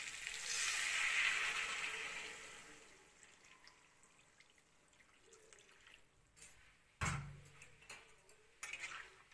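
Hot water poured into a pan of fish-head curry with potato sets off a loud hiss and sizzle that fades over a couple of seconds, followed by quieter clinks and knocks of utensils.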